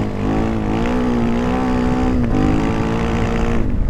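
An AJP PR7 single-cylinder motorcycle engine drones loudly and steadily while riding, its pitch holding fairly even before a brief dip and a slight rise near the end, with no talking.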